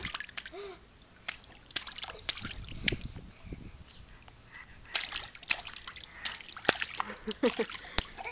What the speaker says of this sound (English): You're splashing me.